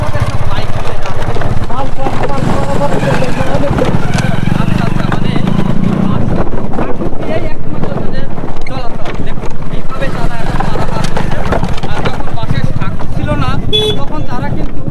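A boat crosses the Padma river in Bangladesh near a char village, with a steady low engine-like rumble and wind buffeting throughout, while people talk over it.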